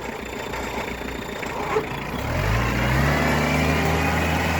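The four-cylinder engine of a Kubota GT5 small tractor idles with a steady rumble, then its pitch rises and settles as it revs slightly, a continuous mechanical drone close by.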